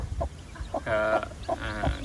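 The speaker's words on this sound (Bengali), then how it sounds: "আমার এই ছাদের সবচাইতে সুন্দর মুরগি হচ্ছে এইটা" A hen's clucking, drawn-out calls, repeated a few times close by over low background noise.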